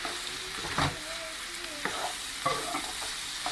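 Celery, onions and bell pepper sizzle and crackle steadily in a hot skillet, with occasional clinks and scrapes of stirring, no voices.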